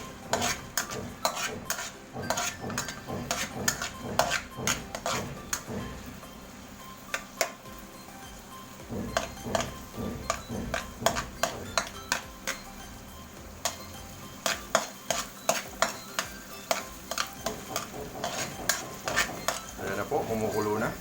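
Shrimp paste (alamang) stirred and frying in a pan for Bicol Express, with steady sizzling under repeated sharp scraping and clicking of a utensil against the pan, close and continuous throughout.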